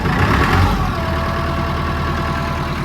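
A Massey Ferguson 168 tractor engine, freshly restored, runs loud and close with a steady low diesel rumble, swelling briefly as throttle is added and then settling into an even idle.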